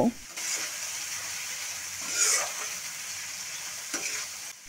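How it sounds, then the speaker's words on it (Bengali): Ground spices, including coriander powder, ginger-garlic paste and salt, fry and sizzle in a pan while being stirred, a steady close hiss with occasional scraping strokes of the spoon throughout. "এখন আমি সবগুলো মশলা একসঙ্গে কিছুক্ষণ কষিয়ে নিব।"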